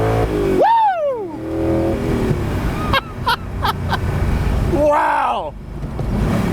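The engine of a 2006 Spyker C8 Spyder revs hard while driving, loud and close inside the cabin, with rising sweeps between gear changes and a voice briefly audible.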